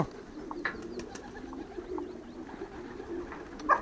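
Soft, low cooing of homing pigeons rolls on steadily in the background, with a few faint chirps and a brief sharper call near the end.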